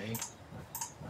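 Two quick computer mouse clicks, spaced about half a second apart, sound close and fairly quiet during play of the Windows 10 puzzle game Hitman GO.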